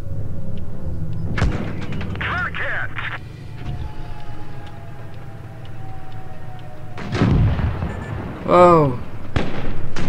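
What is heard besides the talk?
enemy tank cannon fire hitting our tank, World of Tanks Blitz video game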